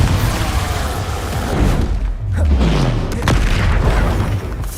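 Spell blasts from the Confringo fire curse boom through a Hogwarts Legacy duel, layered with other spell impacts and low thuds amid constant battle noise.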